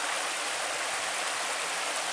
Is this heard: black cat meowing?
no